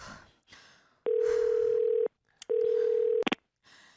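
Two long steady telephone tones sound close by, followed by a quick burst of dialing beeps, with brief background noise between them.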